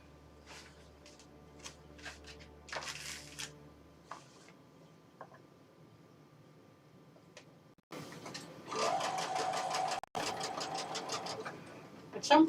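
A sewing machine runs in short stitching bursts, then a longer steady run of rapid rhythmic needle clatter close up, with soft handling noises and faint talk in between.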